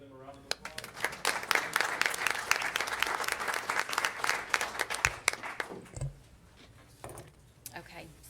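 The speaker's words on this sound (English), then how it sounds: "Can we give them a round of applause?" A round of applause at a school district board meeting, a room of people clapping loudly for several seconds before it thins out to scattered claps and quiet.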